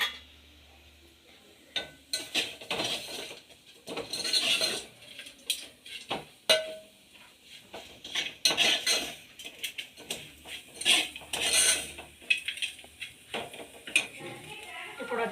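Masala is stirred and fried in a pan while making pepper chicken liver fry: irregular scraping and clanking of a spoon against the pan over a faint sizzle, with intermittent talking.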